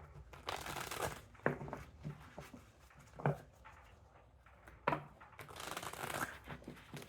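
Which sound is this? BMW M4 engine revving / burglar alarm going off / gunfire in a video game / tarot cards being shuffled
tarot cards being shuffled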